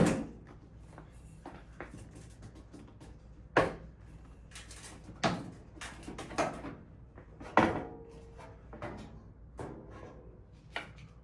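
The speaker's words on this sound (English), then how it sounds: "push down on the handle and pull up on the inside of the door to separate the two pieces" A GE dishwasher door is pulled apart into its two halves, giving several sharp plastic clacks and snaps spread irregularly among quieter handling rustles.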